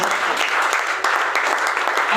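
An audience at a product presentation breaks into brief, enthusiastic applause, a close, loud burst of many hands clapping with a faint voice underneath.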